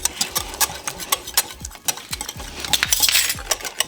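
Wet carnivore bread batter with gelatin being beaten in a bowl, a quick run of scraping, clinking strokes with a rhythmic, close-up, brisk sound and no talking.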